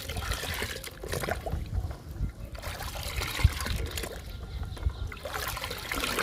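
Water sloshes and swirls as soaked orange-coloured plant-fertiliser liquid is stirred into water in a container, a steady close trickling with a few soft knocks.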